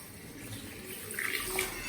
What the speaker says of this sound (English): this is 2 cups of water. So I'm throwing that in to boil it.